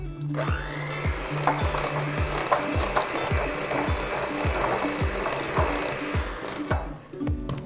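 Electric mixer whirring steadily in a bowl as an egg and vanilla are beaten into brookie batter, with regular knocking thumps of the beaters against the bowl sides.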